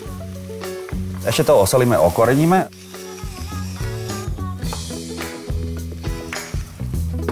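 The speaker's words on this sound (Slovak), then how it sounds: "Tieto huby môžeme hodiť na panvicu. Prihodíme aj cesnak s tymiánom." Mushrooms frying with garlic and thyme in an oiled pan give a steady sizzle and crackle with stirring, while a person talks throughout in Slovak over the cooking.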